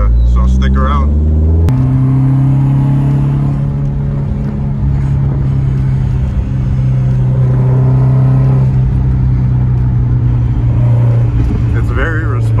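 A 1978 Lotus Esprit S1 with manual transmission on a shakedown drive gives a loud, close engine drone that shifts pitch as it changes gear, then holds a steady rumble.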